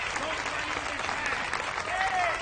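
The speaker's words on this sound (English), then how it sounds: "Well, Penny Leggett gets a nice round of applause as she heads back to the hill." Spectators at a Little League Softball World Series game applaud a pitcher returning to the mound, a steady wash of clapping from the stands heard at moderate distance beneath faint crowd murmur.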